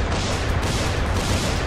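Explosions and gunfire fill a Dying Light game scene, a dense, continuous roar of blasts and shots with heavy low rumble, loud and unbroken throughout.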